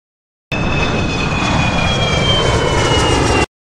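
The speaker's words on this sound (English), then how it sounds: "It's so amazing to know that Big Jet can break the sound barrier." A cartoon jet aircraft roars past in a loud, steady sound effect that holds at full volume for about three seconds, with a thin whine above the engine rumble and no talk.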